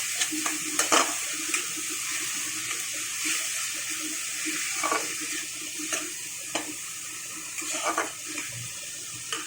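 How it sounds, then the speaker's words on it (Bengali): A spice paste with onion and garlic fries quietly in a pan, giving a soft, continuous sizzling hiss broken by occasional light stirring clicks and scrapes. "তো এখন আমি মশলাটাকে একটু কষিয়ে নেব।"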